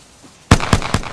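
Gunfire in the Apex Legends video game: three sharp, loud shots in quick succession after a quiet moment, each with a short echoing tail.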